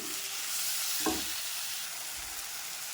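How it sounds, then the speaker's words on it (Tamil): Tomato, onion, ginger, garlic and dried red chillies sauté in a pan for a chutney, a soft steady sizzle with a brief stirring scrape, faint and close, no talk. "தக்காளி போட்டு வதக்கலாம்"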